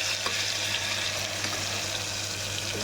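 Ginger and green chili paste sizzling in a cumin tempering, a steady close hiss of hot oil with a low hum underneath and no voices.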